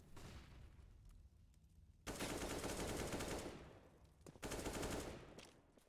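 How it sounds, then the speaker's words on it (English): Automatic gunfire bursts from Counter-Strike during a professional FACEIT Major 2018 qualifier match, two dense rapid-fire volleys of about a second each, loud and close, with quieter game ambience between them. "gunfire out toward the back of toilet."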